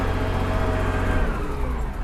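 A ploughing tractor working a field at about 6 km/h, its engine a steady, loud, continuous drone close by with no talk over it.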